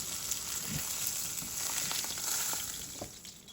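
A sesame-crusted ahi tuna steak sears in a hot pan, giving a steady close, loud sizzle and crackle of frying oil with a few soft bumps, no talking.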